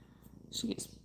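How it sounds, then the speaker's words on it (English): A cat purrs softly up close, a low rumbling texture with a brief louder burst near the middle. "She is purring."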